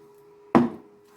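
A single quick scrape and clack of a utensil in a bowl while tossing a salad dressed with sour cream and French mustard, one short close sound over quiet background hum.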